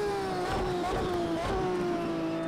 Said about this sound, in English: This thing sounds so damn good. It has to be the best sounding car in Project Cars 2.